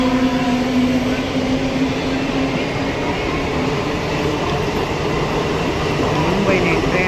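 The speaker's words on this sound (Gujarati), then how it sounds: "જો મસ્ત એસી ટ્રેન જાય છે એકદમ." An air-conditioned Mumbai local train moves through a station with a loud, continuous rumble and rolling wheel noise that holds steady throughout, with no clear speech.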